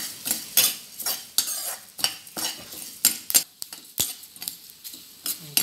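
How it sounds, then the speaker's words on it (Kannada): A utensil stirs coriander seeds and curry leaves as they dry roast in a pan, giving repeated scraping, rattling strokes at a steady rhythm, close and clear with no talking. "ಕೊತ್ತಂಬರಿ ಜೊತೆ ಹುರಿಯೋ ಒಂದಿಷ್ಟು ಕರಿಬೇವು ಹಾಕ್ತೇನೆ."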